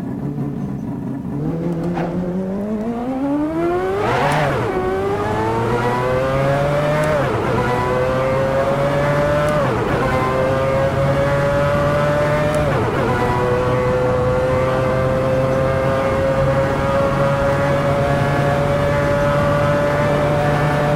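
A car launches down a drag strip, its engine revving up through the gears with rising whines that drop at each shift, loud and close throughout with no talk.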